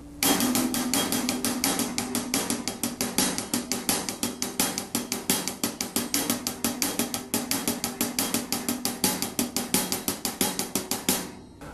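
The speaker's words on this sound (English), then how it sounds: "So that would be a good exercise to get comfortable accenting the different notes within 16th notes." Rapid, even stream of sharp drum strokes in a steady sixteenth-note pulse, some hits accented louder, played alone for several seconds.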